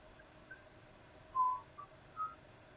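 A person whistles a few short, faint notes with pauses between them, quiet and close, with no talking.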